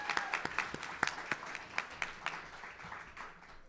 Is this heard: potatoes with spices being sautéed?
no